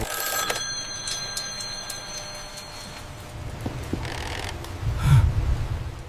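A red telephone rings late at night at 1 a.m., with short bright trills repeating in an empty room, then a low rustle and a thud as the ringing continues.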